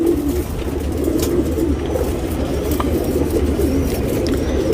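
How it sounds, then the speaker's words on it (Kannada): A male Chitte Tambral pigeon, a black-spotted breed, coos steadily in low rolling phrases close by, continuous over a constant background hum with no talk. "ಚಿಟ್ಟೆ ತಾಮ್ರದಲ್ಲಿ ಗಂಡಿದು"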